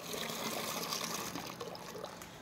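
Water filling a container in a village setting, a continuous rushing, trickling pour that stays steady and close, with no voices over it.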